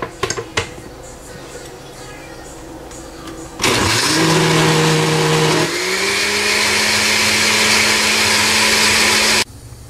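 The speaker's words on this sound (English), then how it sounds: "Now I am going to grind it everything together and make a fine paste." An electric grinder blends a spice paste with a little water for dry chilli prawn, starting abruptly with a loud, steady whine that shifts pitch as the blades bite and then cuts off, after a few faint kitchen clicks.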